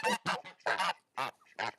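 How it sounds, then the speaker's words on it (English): Domestic geese give a run of loud, nearby honks in separate bursts with short gaps between them, and no one speaks. "I have my geese here."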